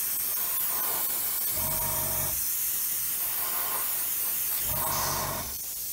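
An airbrush sprays the last of its paint onto a scale model through a mask, a steady close hiss that swells and fades in several passes with brief sputters.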